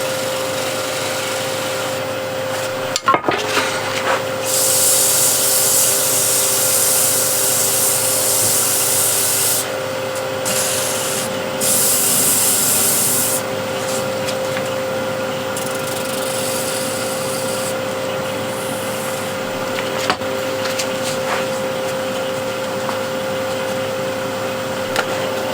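Wood is sanded with 240 grit sandpaper on a custom workpiece, a steady, loud rasping rub that continues for the whole stretch, with bursts of brighter, harsher friction and a faint constant motor hum underneath.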